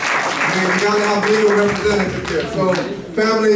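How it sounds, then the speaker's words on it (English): An audience claps at a repatriation and investment conference in a hotel in Accra, steady applause under someone speaking over a microphone. "let's give them a round of applause"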